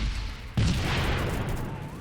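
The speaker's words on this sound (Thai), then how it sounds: "นั่นระเบิดฆ่าคนได้ด้วยครับโอ้โห" A grenade explodes in Roblox Phantom Forces, a sudden loud blast after a moment of gameplay noise, followed by a heavy rumble that slowly fades.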